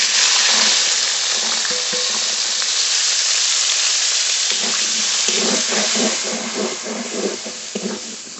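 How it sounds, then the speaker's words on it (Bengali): Green peas fry in hot oil with salt and turmeric, giving a loud, steady sizzling hiss that stays close throughout, with faint stirring clicks near the end. "একই তেলে মটরশুঁটিগুলো ভেজে নেব"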